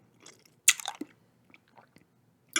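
Hard candy is crunched and chewed very close to the microphone: a few sharp crunchy bites and small mouth clicks separated by quiet pauses.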